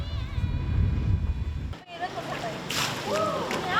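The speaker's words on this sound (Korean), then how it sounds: "개울가에서 빨래하는 아낙네들을 만났다." Water splashes and sloshes at a stream where women wash laundry in midwinter in Guizhou, China. A low rushing wash is followed by a sharp break, then lighter splashing and voices talking nearby.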